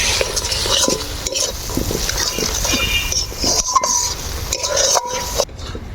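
Raw green peas stirred into spices frying in a pan for matar paneer, with a spoon scraping and clinking over a steady close sizzle throughout.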